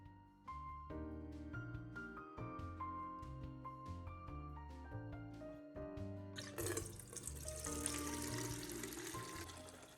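Melted, fragranced candle wax, heated to about 180–190°F, poured into a container. A rushing liquid stream begins partway through and continues to the end, following a stretch of tonal background music.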